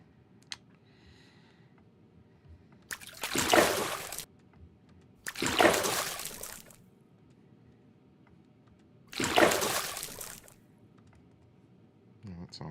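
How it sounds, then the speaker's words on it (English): Water sound effect for a character climbing out of water: three separate bursts of splashing and dripping, each lasting about a second, spaced a few seconds apart over a quiet low hum. "And then getting out of the water"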